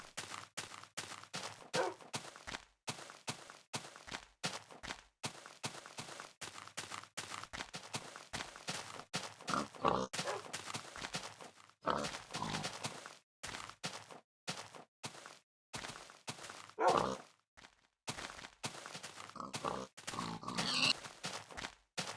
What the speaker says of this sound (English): A lot of pigs.